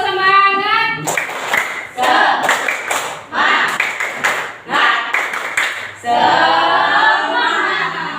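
Schoolchildren in a classroom perform the tepuk semangat clapping routine: bursts of rhythmic group clapping and thumps alternate with shouted chanting, loud and close.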